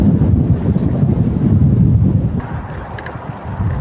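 Seaside wind on the Corniche in Jeddah, strong gusts buffeting the microphone in a loud, continuous roar that eases slightly toward the end, with no talk.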